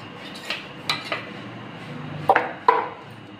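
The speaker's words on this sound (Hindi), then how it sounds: "अब इसे अच्छी तरीके से हम मिक्स कर लेते हैं।" Spoon clinks and scrapes against a bowl as turmeric, coriander and chilli powder are mixed with green chillies for jackfruit pakodi batter, a few scattered sharp taps, close and moderately quiet.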